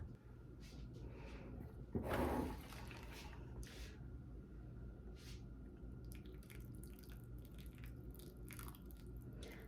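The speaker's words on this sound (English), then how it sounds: "saturate the soil with water" Water poured onto dry, somewhat hydrophobic potting soil for indoor seed starting, a soft close trickle with a brief louder splash early on, then faint wet crackling and dripping as the soil soaks.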